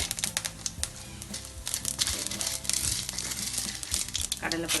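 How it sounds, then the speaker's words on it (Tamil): Mustard seeds pop and splutter in hot oil for tempering, with cumin added, making dense crackling bursts close up while a person talks over the frying. "கடுகு பொரியுது, நல்லா நல்லா கடுகு பொரிஞ்ச உடனே உளுத்தம்பருப்பு, கடலைப்பருப்பு"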